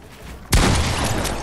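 A single sharp shotgun blast from the Fortnite video game cracks out loud and close, then rings off into a sustained noisy tail.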